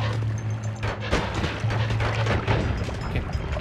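Turrets fire in the video game Noita, a dense run of overlapping blasts and booms that keeps going without a break, loud and close.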